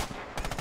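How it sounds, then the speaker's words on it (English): Machine gun fire in the video game Red Orchestra 2, a loud, rapid burst of repeated shots lasting under a second. "we've got some MG cover fire"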